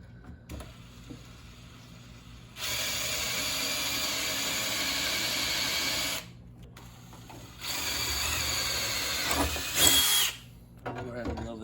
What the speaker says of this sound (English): I'm gonna go ahead and drill this one out too.